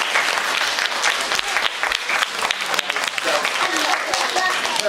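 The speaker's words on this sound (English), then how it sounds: "Okay, round of applause, that was brilliant." A school audience at a Year 4 and 6 music showcase claps steadily after a performance, a full dense wash of applause sustained throughout with voices mixed in.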